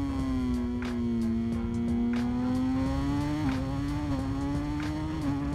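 A Kawasaki Ninja ZX10 four-cylinder superbike in the racing game Ride 5 revs steadily at a high, shrieking pitch, with brief rhythmic dips at the rev limiter or on shifts, loud and continuous with no speech.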